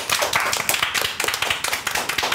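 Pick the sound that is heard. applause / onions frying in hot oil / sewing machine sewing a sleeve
applause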